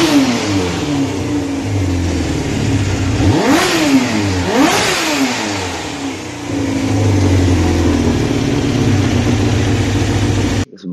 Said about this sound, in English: Now I'm gonna rev it, eh?